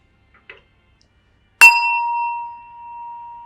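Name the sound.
ringing a bell of truce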